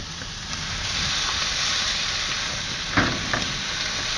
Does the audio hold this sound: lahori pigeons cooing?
no